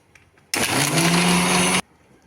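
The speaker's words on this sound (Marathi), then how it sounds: "मिक्सरमध्ये फिरवताना थोडंसं मिश्रण गरम होतं" A blender grinding a spinach mixture with ice cubes runs in one short, loud, steady burst of about a second, then cuts off abruptly, with quiet before and after.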